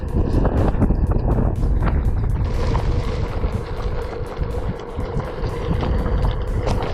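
Steady, loud headwind buffeting the microphone while riding along a road in southeastern Podillia, Ukraine, a constant low roar lasting throughout with no talking.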